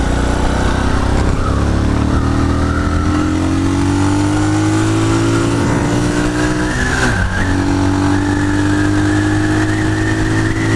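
Engine of a Mash Family motorcycle sidecar rig revving steadily, a loud, close, continuous drone whose pitch climbs slowly, dips briefly, then rises again.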